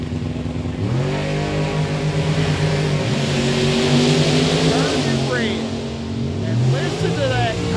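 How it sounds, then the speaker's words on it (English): A supercharged, blower-equipped dragster engine revs hard at a drag racing event, a loud, sustained growling roar with rising and falling pitch sweeps as the throttle is worked, while an announcer talks over it. "And listen to that car. Got that blower on there making racket"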